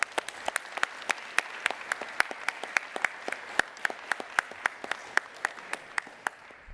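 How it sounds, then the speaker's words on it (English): Sparse applause from a conference audience at a mapping community's closing session, individual claps ringing out as distinct sharp spikes over a soft background patter, thinning slightly toward the end. "please give yourselves another round of applause"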